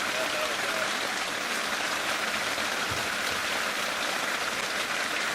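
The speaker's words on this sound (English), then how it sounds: "You can hear I'm actually trying to shout because of how much it's raining." Heavy rain pours down during an evening in the African bush, a dense, steady hiss of drops drumming on surfaces all around, loud and unbroken throughout, with no voices heard.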